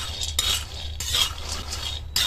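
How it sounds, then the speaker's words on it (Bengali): Peanuts being stirred and roasted in a hot wok over medium heat, with repeated scraping and rattling strokes of a spatula against the pan, close and steady with a few sharper bursts. "এবার এই হাফ বাটি বাদামগুলো গরম কড়ায় ভেজে নেব।"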